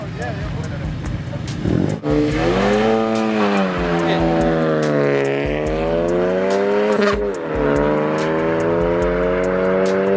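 Cars street racing on a cold night, engines revving hard with rising and falling pitch as they accelerate, with an all-wheel-drive Ford Taurus SHO among them, loud and sustained while voices talk over it.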